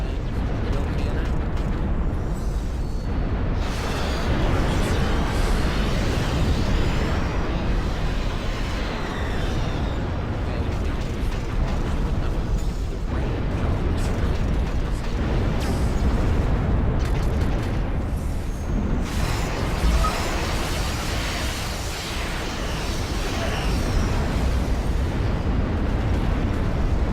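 Cannon fire and explosions rumble from an RTS battle in Ashes of the Singularity, heavy booming bursts layered into a dense, continuous roar of game combat that stays loud throughout.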